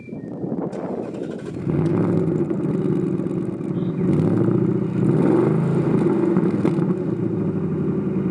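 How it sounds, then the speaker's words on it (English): A Ford Mustang Bullitt engine idles and rumbles steadily through its exhaust in quiet mode, a subdued, low, even drone that rises slightly in level after a second or so. "there is the quiet mode, which sounds like this"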